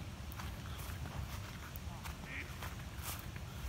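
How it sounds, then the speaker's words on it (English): Ducks at a pond give a few scattered quacks over a busy outdoor background with footsteps, heard at moderate distance. "Those are beautiful little ducks."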